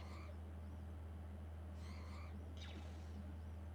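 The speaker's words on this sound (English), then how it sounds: "These birds are making noises, they're freaking me out" Birds in the Star Wars Galactic Battlegrounds real-time strategy game give a few short, faint chirping calls spread across the stretch, over a steady low game hum.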